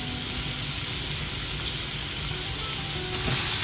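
Finely chopped tomatoes sizzle in a hot pan with oil, a steady, loud frying crackle that holds evenly throughout and swells slightly near the end, with no talking.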